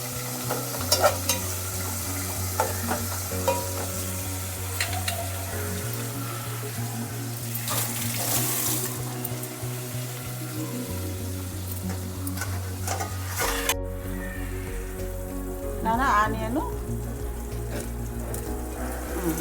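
Onions cook in a pan with a steady close sizzle and occasional scraping stirs, the texture shifting partway through as the frying settles, with no talking.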